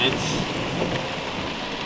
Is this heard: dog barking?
no